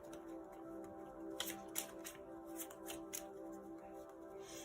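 Tarot cards are shuffled close by, soft riffling flutters and light taps in irregular bursts over a faint steady hum, with no talking.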